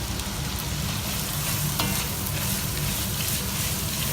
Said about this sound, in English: And I'm going to saute the onion till it's kind of translucent.